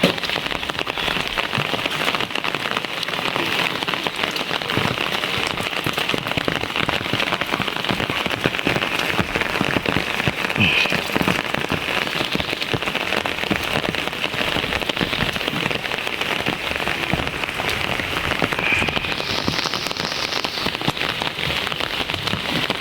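Rain falls steadily on an old-style village with classic houses, a dense even hiss of drops on surfaces that continues unchanged at close range for the whole stretch, with no voices.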